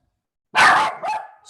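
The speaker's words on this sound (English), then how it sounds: "Stop barking." A single dog bark, loud and close in a quiet room, followed by a shorter second yelp that trails off with a slight echo.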